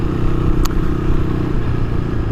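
A KTM motorcycle engine runs nearby with a steady, loud mechanical rumble and a brief clatter partway through, with no voices.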